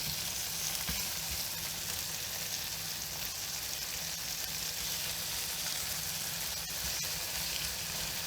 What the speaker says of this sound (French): on va commencer à faire cuire notre bacon. Donc voilà, dans la poêle tout simplement